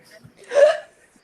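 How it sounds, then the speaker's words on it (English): A single abrupt hiccup, short and fairly loud, standing alone with little else around it. "That's a hiccup, right?"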